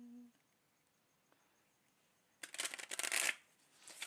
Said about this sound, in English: And then I also get out one deck of oracle cards